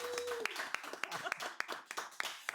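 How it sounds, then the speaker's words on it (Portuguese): A small group claps for Miriam, a travel consultant, at a modest gathering, with sharp individual hand claps in an uneven rhythm, fairly quiet, mixed with a voice speaking briefly at the start. "eu quero pedir uma salva de palmas aí para Miriam aqui agora"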